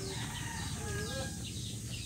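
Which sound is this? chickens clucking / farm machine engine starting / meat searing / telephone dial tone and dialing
chickens clucking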